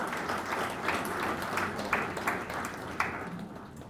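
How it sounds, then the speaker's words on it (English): A lecture audience at HAL Academy in Bangalore claps for the day's speaker, a steady wash of applause with a few sharper individual claps standing out, fairly soft and continuous throughout. "I request for a big clap for our today's speaker."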